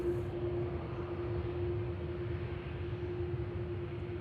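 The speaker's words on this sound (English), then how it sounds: "You have an EasyJet 320 from Prague on the approach." Steady, distant jet roar with a constant tonal whine as an EasyJet Airbus A320 from Prague approaches Manchester Airport, continuous and unbroken.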